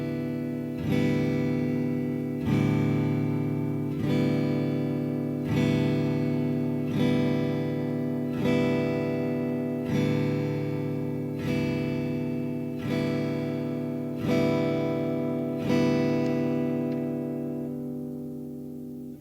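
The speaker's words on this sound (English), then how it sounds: "And the strum of a 4/4 count at 40 beats per minute sounds like" A guitar is strummed in 4/4 time at 40 beats per minute, about a dozen full, ringing chord strums evenly spaced, each decaying before the next, ending with a fading final chord and no voices.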